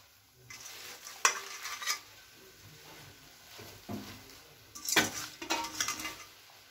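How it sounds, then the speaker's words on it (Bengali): Lafa saag greens tipped into a boiling pot for a North Bengal palka, giving a few bursts of splashing and stirring with pot clatter over a steady hiss, close and moderately loud. "এবার আমি এতে শাক দিয়ে নিচ্ছি।"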